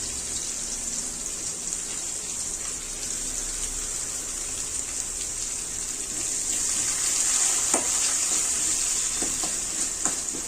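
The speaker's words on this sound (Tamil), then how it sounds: "வெங்காயம் சேர்த்துட்டு நல்லா வதக்கிக்கலாம்" Onions sautéing in hot oil in a pan for a karamani puli kuzhambu, a steady close hiss and sizzle that swells a little louder partway through, with faint stirring taps and no speech.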